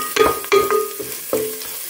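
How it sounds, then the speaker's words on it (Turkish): Tomato paste is stir-fried in a pot, with a soft sizzle broken by a few quick scraping stirs, close and brief. "Şöyle güzelce salçamızın kokusu çıkana kadar kavuruyoruz."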